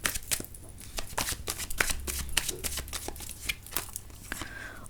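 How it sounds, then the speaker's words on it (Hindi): Tarot cards are shuffled by hand in quick, repeated riffling bursts, crisp and close, going on steadily with no voices. "चलिए कार्ड्स को शफल कर लेते हैं।"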